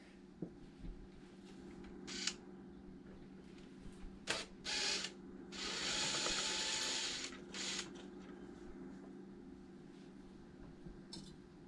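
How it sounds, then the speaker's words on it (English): Screws are removed from a tankless water heater being serviced for carbon buildup on its heat exchanger, with faint clicks and a few short bursts of a buzzing screwdriver, one longer run in the middle, and no talking. "So now let's take out these 2 screws right here."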